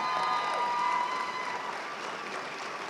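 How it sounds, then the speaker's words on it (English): Audience applause fills a college commencement ceremony at Pasco-Hernando State College, a steady, dense wash of clapping from a large crowd, sustained evenly throughout without speech. "we're going to give you a round of applause"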